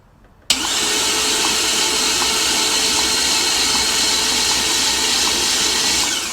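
A car engine with a damaged exhaust manifold starts turning over abruptly and runs on as a steady, loud, broadband whir and roar with a faint rhythmic pulsing, no talk.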